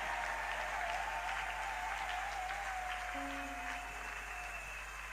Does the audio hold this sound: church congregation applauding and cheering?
yes